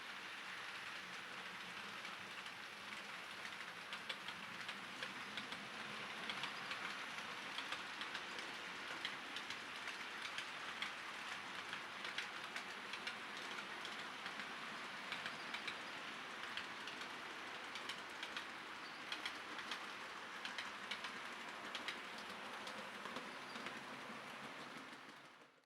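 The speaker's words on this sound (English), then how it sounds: "Express Freight Train 243 is to pass on the main line." Express freight train 243 rolling past on the main line, a steady broadband rumble and hiss of wagons sustained for the whole stretch at moderate distance, with no talking.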